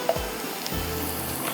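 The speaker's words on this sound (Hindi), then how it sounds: "अब इसके ऊपर जा रहा है तड़का" Tarka hitting a dish of nihari with a brief sizzling hiss, close and moderately loud, settling into a steady crackle.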